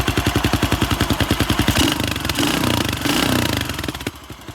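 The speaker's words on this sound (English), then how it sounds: "If you kick it a second time, the momentum of the piston keeps going round and it does usually start on the second kick." A 1977 Yamaha XT500 single-cylinder scrambler thumps loudly and rapidly after a kick-start, its steady rough beat giving way to a revving, blattering run through a lightly baffled exhaust.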